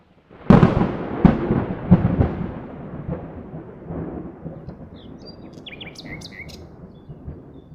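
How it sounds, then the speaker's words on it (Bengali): Cartoon thunder rolls from dark clouds over a rural village. A sharp, loud crack is followed by further booms and a long fading rumble, and birds chirp faintly near the end. "মেঘ ডাকছে"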